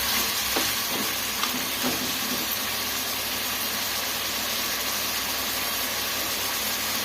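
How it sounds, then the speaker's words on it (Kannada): Chicken pieces for a spicy chicken pepper fry crackle in a pan with a steady, even sizzle and hiss that runs throughout, a few soft clinks early on, and no voices. "ಕಾಲು ಚೆನ್ನಾಗಿ ಫ್ರೈ ಮಾಡ್ಕೊಬೇಕು"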